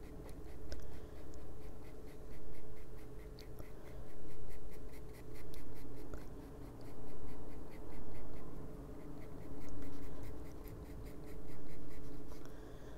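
Colored pencil shading on paper for an adult coloring page, the lead turned as it goes, giving a steady close scratchy rasp in repeated strokes that swell and fade in rhythmic bursts, with no talking.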